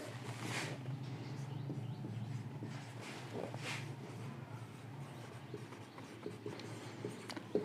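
Marker or chalk writing on a board during a physics lesson on ohmic conductors, heard as quiet scratchy strokes in short bursts with pauses, faint against a low room hum and no speech.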